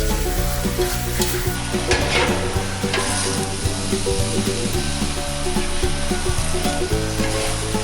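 Crab sticks and glass noodles sizzle and crackle steadily in a hot pan while a utensil scrapes and stirs through them, loud and close, with no talking.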